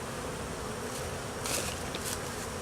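Honey bees buzz around an opened hive box while a colony is relocated and its queen released, a continuous close hum with a few louder passes as individual bees fly near.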